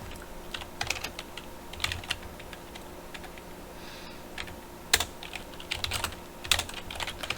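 Fingers type on a computer keyboard in irregular bursts of clicky keystrokes with short pauses between them, close and moderately loud in a quiet room.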